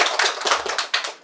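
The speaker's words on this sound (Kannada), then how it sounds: "ಎಲ್ಲರಿಂದ ಜೋರಾಗಿ ಚಪ್ಪಾಳೆ ಬೇಕಪ್ಪ ಇಷ್ಟ ಆದ್ರೆ" Audience applause at a live magic show, a short burst of hand claps rising and falling in waves over about a second, fairly close and with no talk.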